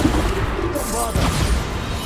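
Bombarda spell blasts in the Hogwarts Legacy video game, a loud muffled booming and crashing under continuous overlapping talk.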